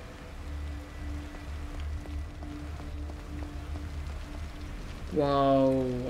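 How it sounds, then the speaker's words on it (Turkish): Heavy rain falls steadily in the horror video game The Evil Within, a continuous close hiss of downpour with a low droning hum, joined near the end by a louder rising tonal sweep. "Deli gibi yağmur yağıyor"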